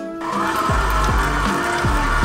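A food mixer runs loudly and steadily, blending butter with crushed nuts, its motor whirring with a rhythmic thumping cycle as the blade churns the mixture.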